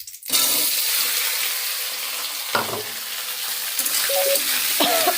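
Dry red chilies and potatoes sizzle loudly in hot oil in a wok, a sharp onset settling into a continuous hiss broken by a few stirring knocks and scrapes, with no voices.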